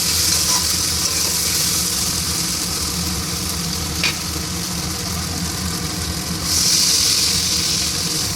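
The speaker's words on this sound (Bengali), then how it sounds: "এবার আমি একটু জল দিয়ে দেবো, তারপর মাছগুলো ছেড়ে দেবো।" Fish frying in a pan after a splash of water is added, giving a steady broadband sizzle throughout with a brief crackle midway and a louder hiss burst near the end; no talking.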